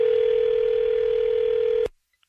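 A steady, loud telephone dial tone hums alone after a caller hangs up, then cuts off abruptly into silence.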